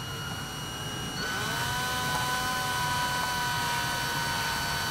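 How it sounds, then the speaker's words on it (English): A power drill with a flattened attachment drives a probe tip, whirring steadily, its motor pitch shifting as it speeds up, then holding a continuous high whine. "We're going to be using a flattened attachment with a drill, and go slow"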